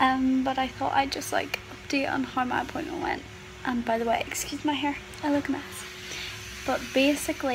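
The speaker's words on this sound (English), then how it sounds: "my mum's hoovering in the background" A household vacuum cleaner hums steadily in the background, a low, constant drone running underneath someone talking close to the microphone throughout.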